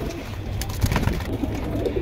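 Pigeons, silver birds among the flock for sale, coo low and close against a steady background hum, with a soft burst of cooing near the middle.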